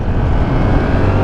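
A Yamaha R7 motorcycle revs hard as the rider pulls a small wheelie, a loud steady engine drone close up with rushing wind.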